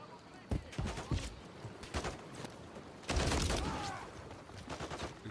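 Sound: gunfire in video game Call of Duty Modern Warfare 3

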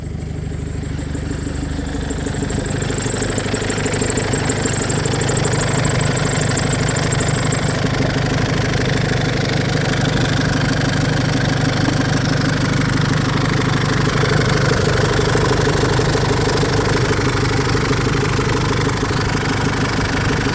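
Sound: Isuzu D-Max pickup truck engine idling after starting

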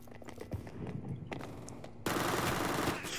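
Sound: gunfire in the video game CS:GO

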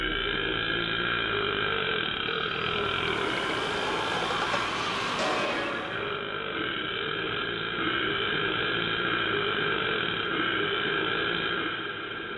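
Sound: burp sound effect in an animated film

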